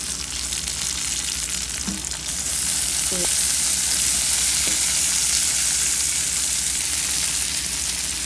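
Green chilies fry in hot oil for a tomato chutney, with a steady close sizzle that swells louder partway through and a few light utensil taps.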